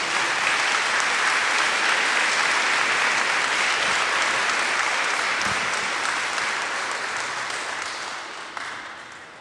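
A church congregation gives sustained, dense applause during a sermon, a steady wash of clapping that holds strong for several seconds and then slowly tapers near the end.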